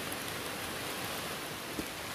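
Steady rain falls on open ground during a mushroom dig in sticky soil, a soft even hiss of drops with no other sounds standing out and one faint tap near the end.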